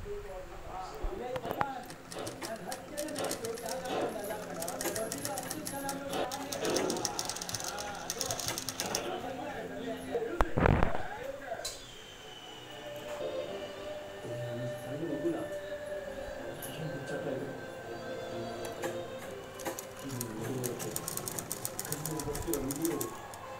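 A sewing machine stitches a full-sleeve blouse, its rapid whirring bursts coming in short runs with pauses, close but fairly quiet, with someone talking throughout.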